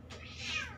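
A scared, aggressive cat gives a single short, tense meow while being groomed, fairly faint and close, rising and then falling within under a second.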